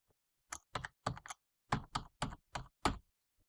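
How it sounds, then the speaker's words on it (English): Keys pressed on a computer keyboard: about nine crisp, close taps in uneven groups of one to three strokes, separated by silence. "when I press a key on the keyboard"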